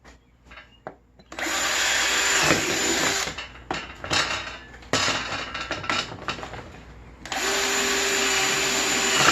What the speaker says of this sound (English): Each one of those dimples I'm going to drill out.